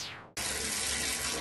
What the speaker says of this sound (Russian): Вода из крана бежит очень холодная и приходится греть воду.